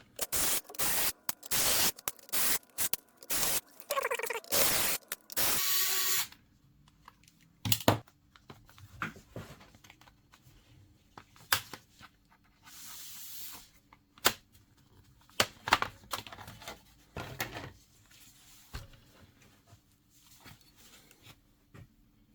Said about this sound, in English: So let's remove the screws.